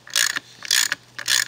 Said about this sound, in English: and we torque the T-nut sleeve and the T-nut